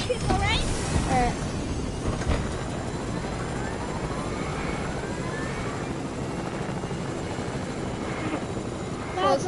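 A helicopter in the Fortnite video game flies steadily, its constant whirring rotor drone filling the whole stretch with a few brief whooshes, while players talk over it.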